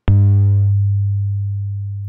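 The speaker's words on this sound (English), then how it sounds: "a single frequency tone, with a decay time of 1 second and a frequency of 100 Hz" A low pure 100 Hz sine tone with a one-second decay time starts with a click and gradually fades over about two seconds, like a soft plucked note.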